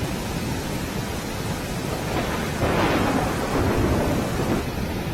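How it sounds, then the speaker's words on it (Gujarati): A rain-swollen river in Gir Somnath district, Gujarat, rushes with a steady, heavy roar of churning water, loud and continuous with no voices. "નદીનો આ ધસમસતો પ્રવાહ"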